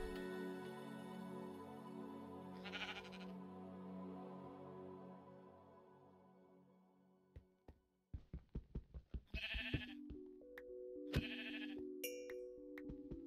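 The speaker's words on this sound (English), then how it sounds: "Kill the sheep." Sheep bleat twice in a Minecraft game, each a short wavering cry, over faint background music, followed by a quick run of clicks and chiming game sounds.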